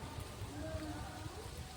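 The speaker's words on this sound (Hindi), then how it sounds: "बारिश पड़ रही है बहुत तगड़े वाली, और तूफान भी बहुत तेज़ आ रहा है।" Heavy rain pours down during a thunderstorm, a dense, steady hiss of drops on surfaces filling the whole moment with no voices and no thunder standing out.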